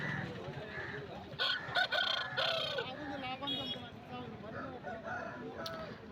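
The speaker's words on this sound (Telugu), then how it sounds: "మంచి ఫైటింగ్ స్కిల్స్ ఉన్న పుంజు." A one-year-old fighting rooster at a village market crows loudly and close, with sharp bursts and clucks over a busy background of other fowl and murmur.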